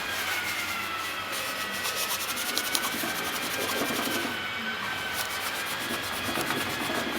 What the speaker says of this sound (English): look at him polishing brass